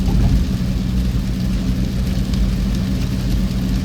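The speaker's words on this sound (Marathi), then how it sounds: "तुफान पाऊस आहे पुढचं काही दिसत नाही आहे" Heavy torrential rain pours down on a car driving on Mumbai's coastal road toward Alibaug, a dense, steady roar of rain and road noise filling the cabin with no voices.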